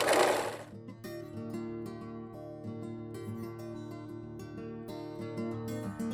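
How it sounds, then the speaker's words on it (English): Steady whirring and rapid needle chatter from a sewing machine running a securing stitch across layered tote bag fabric near the edge, close and continuous for several seconds with slight pauses. "Let's just put a securing stitch to hold all those layers together."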